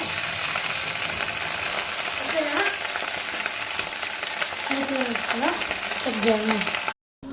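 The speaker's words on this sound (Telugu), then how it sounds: "వేసుకొని బచ్చల కూర వేయించుకోవాలి. కడిగిన బచ్చల కూర" Washed Malabar spinach (bachali) leaves fry in a hot pan with a loud, steady sizzle and scraping stir sounds, with brief voiced fragments near the end and a short cut before the last moment.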